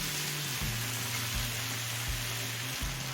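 Tomatoes frying in a pan while cooking ghugni give a steady, close broadband sizzle that runs without a break. Faint low pops and clicks repeat under it.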